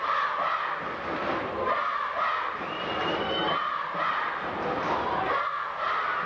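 Crowd of young voices cheering and shouting continuously at a school hurling final, with substitutes urging on their team; a dense, steady roar with swelling surges throughout.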